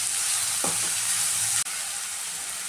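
Grated potato frying in a pan, a loud continuous hiss and sizzle close by, with one brief spoon scrape near the start.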